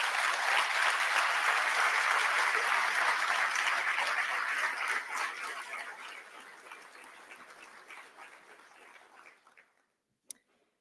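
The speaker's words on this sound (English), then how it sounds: "if we could give you a round of applause for the work that you do" Loud applause from an audience at a school district address rings out, gradually thinning and fading over several seconds into near silence, ending with a single sharp click.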